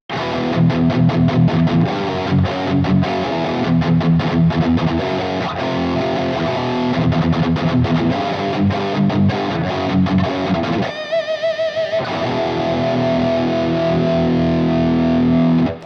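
Loud distorted Ibanez AZES40 electric guitar on its first pickup position, chords chugging in a driving rhythm, with a brief break in the pattern before sustained crunchy strums ring out.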